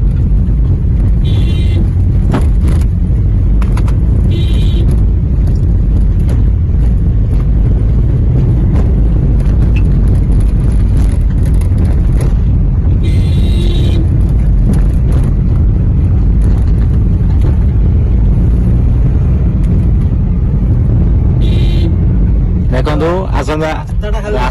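Vehicles and motorbikes pass on a road in a continuous, loud low rumble, with heavy wind buffeting on the microphone and a few brief higher bursts. A person talks throughout.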